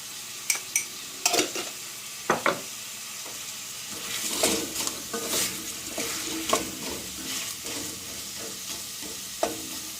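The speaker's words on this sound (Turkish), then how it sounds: "fasulye enginarlarımız böyle birazcık sote oluyor" Artichokes and beans sautéing in a pan with salt, a steady soft sizzle broken by sharp scrapes and clinks of stirring, close and alone with no talk.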